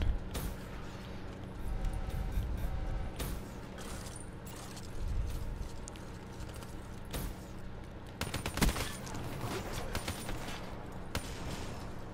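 Gunfire in a first-person shooter, scattered sharp shots and bursts over a busy mechanical background, some crisp and close, with a louder volley near the end.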